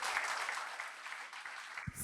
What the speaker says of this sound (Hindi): जोरदार तालियों के साथ बच्चों।